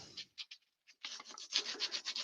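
Hand sanding on wood: a few short rasping strokes, a pause, then a quick run of rhythmic back-and-forth scrubbing, close and moderately quiet.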